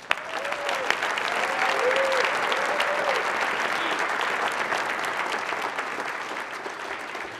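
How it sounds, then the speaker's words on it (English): An audience at a charity gala applauds two Alumni Hall of Fame honorees. Sustained, full-room clapping holds steadily throughout, with a few whistles and cheers on top. "So can we give them both a round of applause?"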